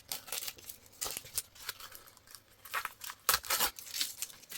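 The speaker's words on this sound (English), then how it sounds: "I'm just going to take all the tape off." Tape is peeled in quick ripping strips off an acrylic pour painting canvas, a series of short, sharp tearing bursts at irregular intervals, close and fairly crisp, with no voices.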